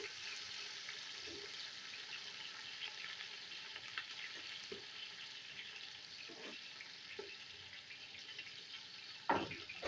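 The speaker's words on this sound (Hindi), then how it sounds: "स्लाइस किया हुआ प्याज। इसको हमने गोल्डन होने तक जो है वो फ्राई करना है" Sliced onions frying in hot oil for beef yakhni pulao give a steady, close sizzle throughout, with occasional stirring scrapes and a louder clatter near the end; no voices.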